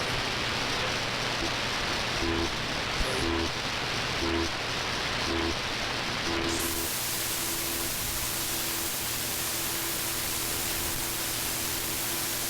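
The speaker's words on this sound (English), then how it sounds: "It's like a wave radar." Shortwave radio tuned in AM mode picks up a radar signal: steady broadband static hiss with a faint repeating pulsed tone, bursts at first then settling into a continuous buzz as the noise brightens halfway through.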